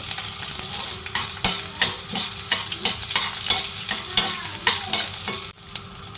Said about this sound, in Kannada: ಸ್ವಲ್ಪ ಜೀರಿಗೆ ಹಾಗೆ ಇದಕ್ಕೆ ನಾನು ಬೆಳ್ಳುಳ್ಳಿಯನ್ನು ಹಾಕ್ಕೊಳ್ತಾ ಇದ್ದೀನಿ